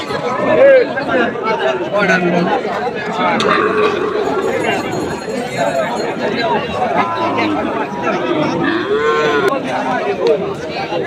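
Cattle low repeatedly at a busy livestock market, several moos near and farther off rising over constant crowd chatter, while people nearby talk throughout.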